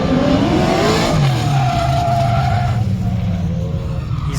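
A race car spins out at a Corvette event, tires skidding and scrubbing loudly for several seconds with engine noise beneath, the squeal sliding down in pitch as the car slows.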